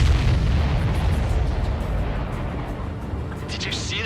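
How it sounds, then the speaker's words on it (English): An aircraft exploding in the Ace Combat 7 video game, a loud rumbling boom that decays slowly, with voices talking over it. "Did you see that explosion?"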